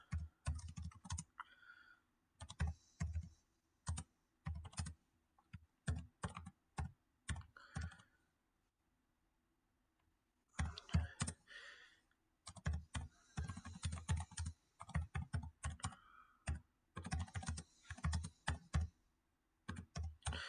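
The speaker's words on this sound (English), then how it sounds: "I'll just type it in" Typing HTML on a computer keyboard, bursts of quick, crisp key clicks broken by short pauses and one longer silent gap, close and clear with no voices.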